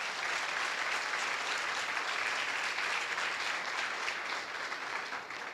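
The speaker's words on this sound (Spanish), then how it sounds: "Alguien puede dar un aplauso a otro en este momento." Steady, even applause from a church congregation during a sermon, a continuous wash of many hands clapping at a fairly distant, moderate level.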